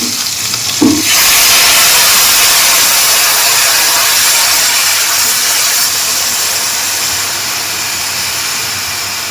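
Water splashes into a hot pan of frying sliced pork with a short hiss, then a loud, steady, broadband sizzle and steam roar swells up and runs on at close range, easing off slightly toward the end.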